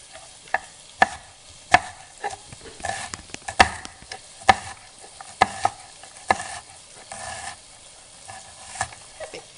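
A knife chops onion into small pieces on a board, a series of sharp, close taps in an uneven rhythm with softer scraping between them.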